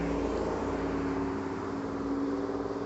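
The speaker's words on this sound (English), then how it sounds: "I'll let the 3 cars go by before I can continue talking." Cars roll past on Skyline Drive in Shenandoah National Park, a steady broadband road rush and engine hum that stays loud across the stretch without pause.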